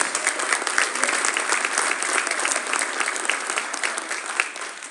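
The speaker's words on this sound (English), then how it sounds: "Give them a round of applause." Steady, dense applause from a concert audience for high school vocal students, continuous and even for the whole stretch with no talking over it.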